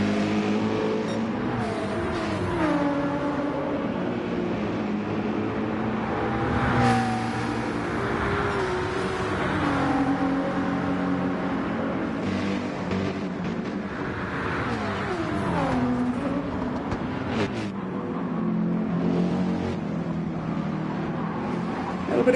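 Race cars, including a BMW, roar around the Nurburgring during the 2023 24 Hour race, with engines rising and falling in pitch as they accelerate and pass in a continuous loud drone.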